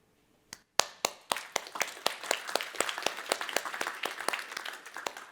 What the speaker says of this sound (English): I would like to applaud ourselves for doing this